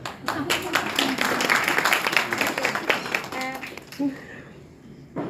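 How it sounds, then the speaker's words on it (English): Audience at a poetry festival in Manchester claps steadily, the dense patter holding for about four seconds before thinning to a few scattered claps, with voices faintly under it. "Give it a clap for me."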